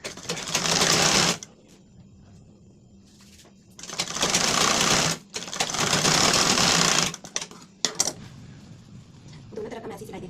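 Sewing machine stitching a blouse seam with a half-inch allowance, loud close whirring runs in three bursts with quieter pauses between, ending in a few short clicks and a faint voice.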